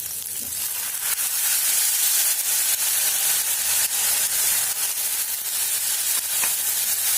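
Cauliflower frying in a pan gives a steady, loud hiss and sizzle after water is added, a continuous bright crackle with no voices.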